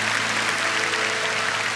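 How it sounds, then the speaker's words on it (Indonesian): Church congregation applauding together during a worship service, a steady dense wash of clapping that fills the room without pause. "berikan tepuk tangan untuk Tuhan Yesus"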